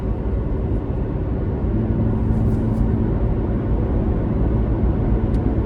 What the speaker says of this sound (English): Now the tires are relatively loud on this pavement.